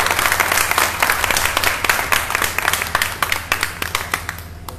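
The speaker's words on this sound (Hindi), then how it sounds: "जोर से तालियां बजाइए।" A crowd at a religious gathering applauds loudly with steady, dense clapping that thins out toward the end.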